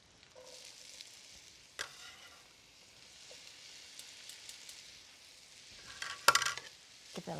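Green pepper frying in a pan, a soft, quiet sizzle with a few clinks and scrapes of stirring utensils against the pan, sharper at the end, and no talking.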